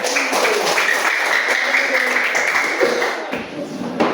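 Classroom audience clapping together as a group, sustained and fairly loud, with an even wash of hand claps lasting several seconds.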